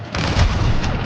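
A grenade explodes in the Star Wars Battlefront II battle on Yavin 4: one loud, close, heavy blast with a deep rumble that fills the whole moment and stays dense to the end.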